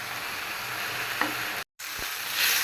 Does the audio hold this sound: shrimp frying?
yes